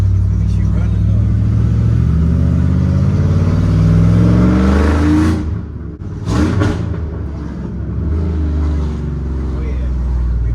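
A drift truck's engine idles with a heavy, loud rumble, swells into a rising rev, drops back and keeps running roughly. Voices talk over it.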